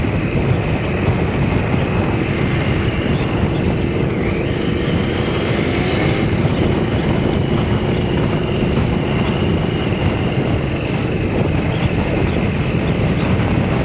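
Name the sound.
Triumph ST955i motorcycle being ridden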